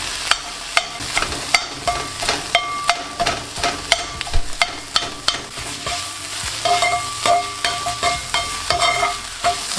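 Onions and peppers frying in a pan with salt: a steady sizzle under repeated sharp scraping and clacking strokes of a utensil against the pan, close and fairly loud, with no talking.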